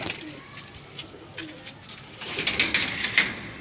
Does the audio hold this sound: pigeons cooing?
yes